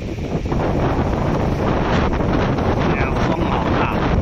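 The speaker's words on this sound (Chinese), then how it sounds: "风好大" Strong wind buffets the microphone beside a large lake in Taoyuan, a steady roaring rumble that fills the whole stretch without pause.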